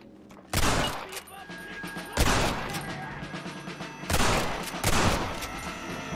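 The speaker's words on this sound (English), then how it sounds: "There's a Gatling gun." A Gatling gun in Red Dead Redemption fires in several loud, sustained bursts of rapid crackling shots, separated by short pauses.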